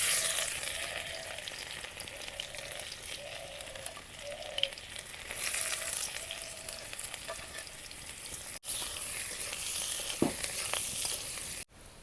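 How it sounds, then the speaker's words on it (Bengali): Chopped onion and garlic cloves fry in hot oil with dried red chilli for dheki shak, producing a continuous hissing sizzle with occasional stirring clatter and two brief cut-outs. "কুচি করা পেঁয়াজ আর রসুন কোয়াগুলা দিয়ে দিব।"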